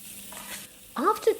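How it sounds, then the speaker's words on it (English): Peppers sizzling and being stirred in a pan of hot oil, a soft frying hiss with a few brief scraping stirs near the end. "keep stirring and frying in the oil"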